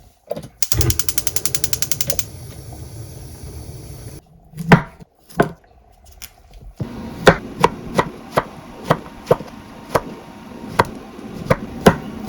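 A knife chops zucchini for a beef and zucchini stew, giving a quick rapid run of taps early on, then a slower series of separate, evenly spaced knocks on a cutting board, with no talk.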